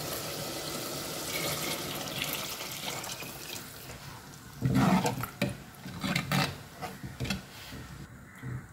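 A liquid mixture of tamarind water, salt and chili powder is poured into a pot of vendhaya kuzhambu. A soft watery background gives way to a series of close splashing, gurgling pours in uneven bursts.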